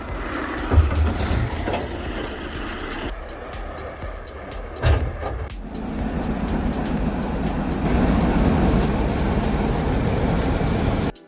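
An intermodal freight train carrying a load of 23 lorries on rail wagons rolls from Ukraine toward Poland, a steady rumble of wheels with rhythmic clatter that swells and grows louder toward the end.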